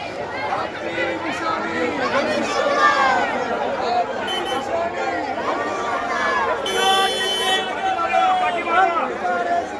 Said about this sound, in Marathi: बहुत गर्दी होने लगा.